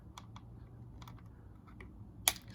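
Tiny scissors snip through toy packaging during a Bakugan Armored Alliance Howlkor Ultra unboxing, with soft scattered clicks and a low hum followed by one sharp, distinct snip near the end.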